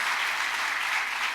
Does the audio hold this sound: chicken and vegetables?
no